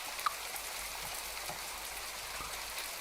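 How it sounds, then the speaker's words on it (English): Steady rain in a video game, a dense even patter of drops on surfaces filling the whole clip, fairly quiet and continuous with no voices. "what do we think about the rain?"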